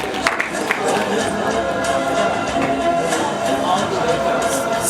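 Audience applause at a BESYO preparation academy certificate ceremony, steady dense clapping from a crowd throughout, with faint voices mixed in.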